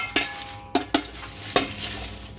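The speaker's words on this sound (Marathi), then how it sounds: "इथे तमालपत्र भाजत आहे आता." Bay leaves and whole spices are dry-roasted in a pan, with four or five distinct scraping spatula strokes against the metal, close and moderately loud.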